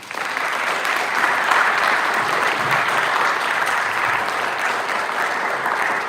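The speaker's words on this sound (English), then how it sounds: "please give a round of applause for Josh" A college audience gives sustained, even applause to an event moderator, a full, steady wash of clapping that holds at constant loudness without speech.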